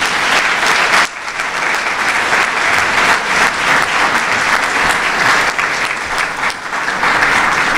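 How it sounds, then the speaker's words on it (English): An audience of students, teachers, principals and educators gives a loud, sustained round of applause in a school building at an event with Governor Christie. Thick clapping fills the whole stretch and dips only briefly near the start. "Let's give the students, the teachers, the principals, every educator in this building a round of applause."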